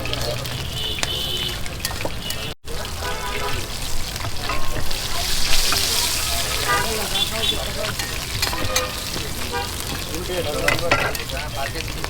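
Luchi frying in fresh oil at a street food stall, a loud continuous bubbling sizzle with stirring and some clatter, voices talking in the background.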